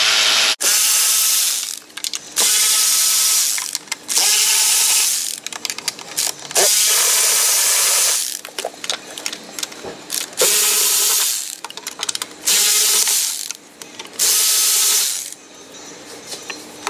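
A hand ratchet cracks loose the upper intake fasteners on a Jeep Wrangler 3.6 Pentastar engine, with close, loud bursts of rapid clicking between short quiet gaps, repeated many times over.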